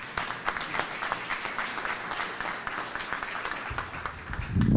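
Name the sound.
audience round of applause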